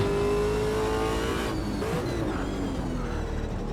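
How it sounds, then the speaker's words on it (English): A race car in Automobilista 2 on the Nordschleife, its engine revving with sharp throttle blips and a rising whine, loud and close throughout. "you can already tell by the small kicks on the throttle that there's an engine behind that really wants to go mad"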